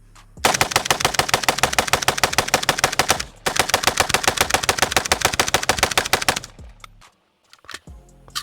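A Stenzel SAK-21 AK rifle fires long, rapid strings of loud, close shots in two extended bursts separated by a brief pause, followed by a few scattered clanks and handling noises.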